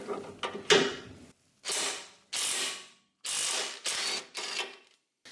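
A ratchet undoing the 17 mm ball joint fasteners on a vehicle: several bursts of rapid clicking pawl strokes, close and distinct, separated by short pauses, with no talk.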